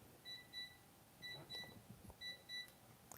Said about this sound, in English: Yeah, it's my alarm clock here.